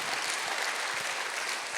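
A church congregation claps during a Sunday worship service, a steady, dense wash of applause from many hands that fills the room without pause and without voices.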